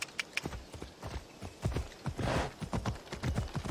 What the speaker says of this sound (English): I can't read and ride the horse at the same time.